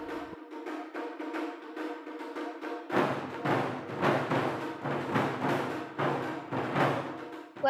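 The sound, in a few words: Japanese taiko ensemble drumming, kumidaiko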